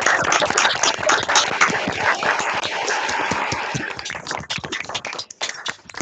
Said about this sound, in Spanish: le regalamos un fuerte aplauso al ingeniero Pardo por su